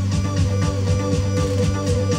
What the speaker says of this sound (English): It's called Dr. Octo Rex. Basically what it has is pre-made drum beats.